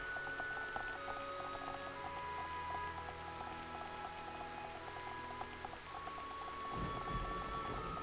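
Rain falls at night in the video game Xenoblade Chronicles, a steady patter on surfaces under soft tonal game music, with a low rumble swelling near the end.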